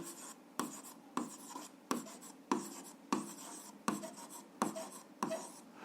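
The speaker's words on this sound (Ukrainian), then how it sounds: "Ну що ж, записуємо відповідь." Pen writing by hand on paper in a notebook while solving an algebra exercise: repeated bursts of scratchy strokes, each starting with a tap, in a steady rhythm, close and fairly quiet, with no talking.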